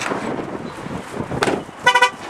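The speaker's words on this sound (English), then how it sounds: "I don't know why that just honked at me." A 2018 Holden ZB Commodore's horn gives a short burst of two or three quick, loud honks near the end, after a stretch of soft rustling and handling noise close by.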